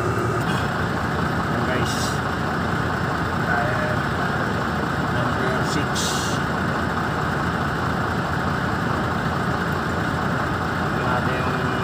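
Mercedes Actros truck diesel engines idle in a workshop, a steady loud low rumble throughout, with people talking over it and a few short metallic clanks.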